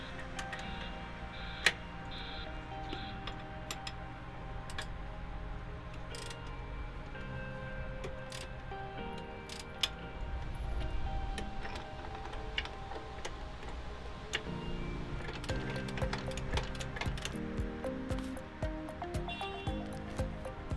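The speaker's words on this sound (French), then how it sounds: "Enfin, utilisez la clé dynamométrique pour finir le serrage." A torque wrench clicking as water main fittings on a drinking water network are tightened, sharp isolated clicks scattered over a steady background of music and ambience.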